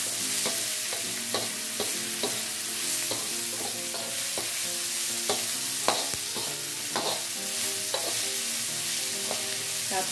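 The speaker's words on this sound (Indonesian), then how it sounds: "kita panaskan minyak lagi Bunda, dan kita goreng bawang merah, bawang putih, serta bombaynya dan lengkuas" Shallots, garlic, onion and galangal frying in hot oil for a stir-fry of bitter melon and salted fish, a steady close sizzle with repeated scraping stirs throughout, no voices.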